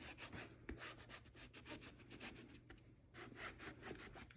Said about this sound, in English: So I'm just going to rub the ink